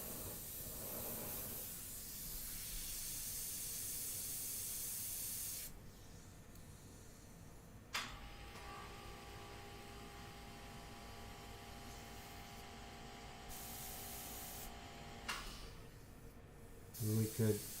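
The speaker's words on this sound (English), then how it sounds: "So I have the media mixture in my airbrush" An airbrush loaded with a sepia paint media mixture sprays in a steady, close hiss for several seconds, then gives shorter bursts with pauses and a few faint clicks and knocks near the end.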